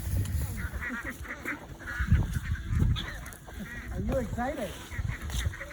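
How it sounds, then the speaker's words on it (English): Several ducks honk and quack nearby in scattered bursts while a person speaks briefly over them. "There's ducks on one side and ducks on the other."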